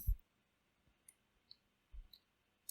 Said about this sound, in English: okay, double click, double click, double click.